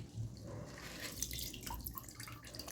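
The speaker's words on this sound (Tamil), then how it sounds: "இப்போ வந்து நம்ம இதை ஒரு வெள்ளை துணியில் வச்சு நல்லா தண்ணியெல்லாம் வடிகட்டிக்கலாம்" Water draining from soaked rice spread in a white cloth, soft trickling and dripping close by with a few small splashes, continuous and fairly quiet.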